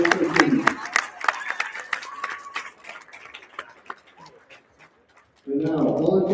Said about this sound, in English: Students, I want you to give a huge round of applause for all the extra effort for those coaches and those teams.